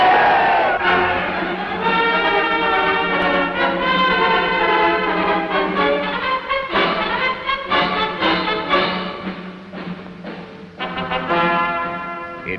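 A large crowd cheers for the Indonesian Republic, a loud, steady mass of voices with rising shouts and swells that continue without a break for the whole stretch.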